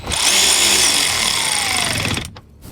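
A power drill drives a Phillips-head self-tapping screw into the fender liner of a Toyota RAV4 Hybrid, a loud, steady whirring run close by that cuts off abruptly near the end.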